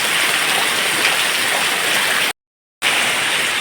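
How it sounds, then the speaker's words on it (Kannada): Heavy rain pours in a dense, steady roar, broken once by a short moment of total silence before the downpour resumes. "ಇಂಥ ಮಳೆ ನೋಡಿ."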